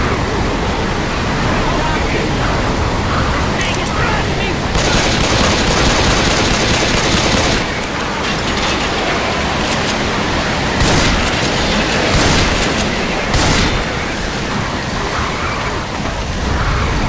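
Sustained gunfire in the zombie shooter Left 4 Dead, dense overlapping automatic shots and bursts forming a loud, noisy wall of sound with sharp spikes, with players talking over it.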